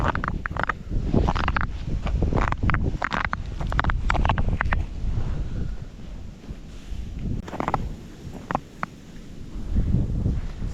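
Gusty winter wind buffets the microphone on a pike tip-up fishing trip in a low, rumbling roar that swells and fades, with occasional rustling and knocks.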